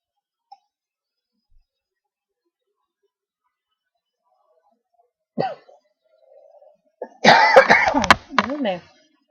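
A short cough bursts out after near silence, followed a moment later by a louder cluster of harsh coughs and throat sounds, close to the listener.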